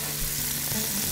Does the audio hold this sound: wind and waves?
no